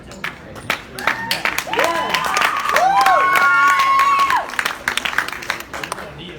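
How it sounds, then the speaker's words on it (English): Audience at an illegal immigration debate breaks into applause and cheering, swelling for a few seconds in the middle and then tapering into scattered claps, with crowd voices and whistles mixed in. "You can applaud him, by the way, if you want."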